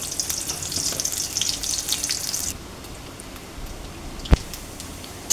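Dal hits hot oil in a karahi and sizzles loudly for a couple of seconds, then settles into a quieter, steady crackle broken by a single sharp knock.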